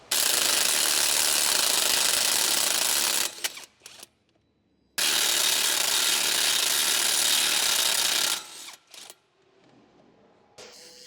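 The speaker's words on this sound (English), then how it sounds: "Use the 18mm deep socket with the electric impact to remove the lower strut to knuckle bolt." Two long bursts of loud, steady whirring from an electric impact wrench with an 18mm deep socket removing the lower strut-to-knuckle bolt on a 2012-2016 Chevrolet Cruze, each running a few seconds, separated by brief rattles and quiet gaps.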